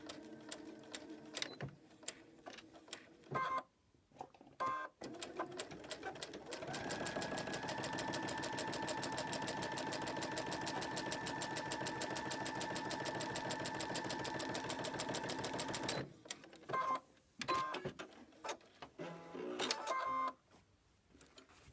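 A sewing machine stitching a quilt piece, a steady mechanical whir lasting about nine seconds, framed by soft handling noises and pauses before and after.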